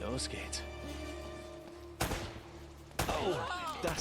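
Gunfire in the video game Uncharted: Drake's Fortune, two sharp broadband shots about a second apart over a humming game soundtrack, with a voice talking quietly in the background.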